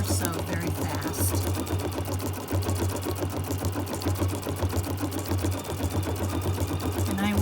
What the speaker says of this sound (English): we'll go ahead and we'll stitch out our first color